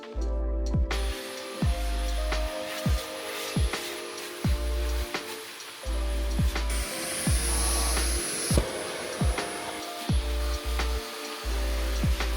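A vacuum cleaner runs during a Sunday home cleaning, its motor droning loud and close, cutting in and out in repeated bursts with brief pauses between passes.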